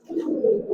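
Old-breed Giribaz pigeons give a single short, low coo, close by and clear, lasting under a second with no talk over it.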